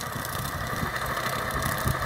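A T-25 tractor runs in a potato field, knocking down the haulm, its engine a steady close chugging rumble with a rough, knocking throb and no voices.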